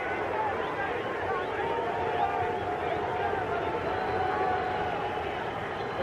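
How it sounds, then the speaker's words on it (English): Boxing crowd at Hampton Coliseum during a 1989 WBC lightweight title fight, a dense steady roar of thousands of voices that could hold a rhythmic name chant, loud and constant throughout. "The crowd here at Hampton Coliseum starting to chant, Pete, Pete, Pete."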